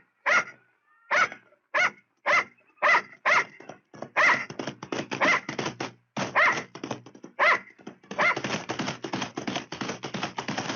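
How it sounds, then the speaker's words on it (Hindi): A dog barks repeatedly, close and loud, first in evenly spaced single barks, then in faster bursts of barking that run together toward the end. "ये मुझ पर भौंक रहा है"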